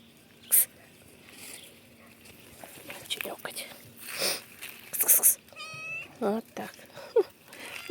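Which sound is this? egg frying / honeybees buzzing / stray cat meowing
stray cat meowing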